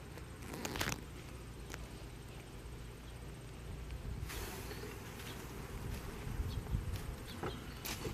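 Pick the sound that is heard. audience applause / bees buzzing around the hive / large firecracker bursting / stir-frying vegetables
bees buzzing around the hive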